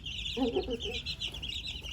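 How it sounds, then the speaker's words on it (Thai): One-month-old chicks cluck and peep in a brood pen, a short cluster of soft calls over a steady high-pitched chirping chorus and low background rumble, with no talking. "ลูกไก่ของเราก็มีอายุครบหนึ่งเดือนแล้วนะครับ"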